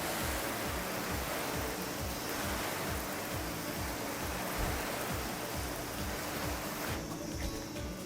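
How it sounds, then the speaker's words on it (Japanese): Water sprays steadily from a shower-style hose onto a car bonnet during a water-beading test of a coating, a dense continuous hiss with no pauses, heard alone without talk. "そしたらまあ普通に一旦水をかけます。"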